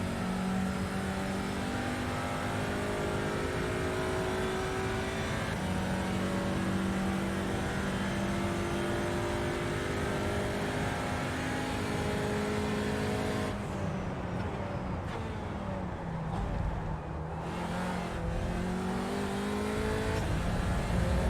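Audi TCR race car engine in iRacing at Road America, a steady loud drone revving and shifting through gears for the whole stretch, with a sharper rev swing and gear changes about two-thirds through.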